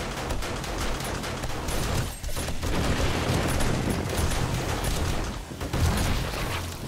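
Explosions and gunfire from the zombie survival game 7 Days to Die rumble and crackle in a dense, continuous barrage, with a sharper blast near the middle of the stretch.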